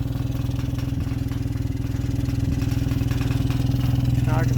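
An RV motor home engine idles in a steady, low, continuous rumble, heard from close by outside with no talk over it.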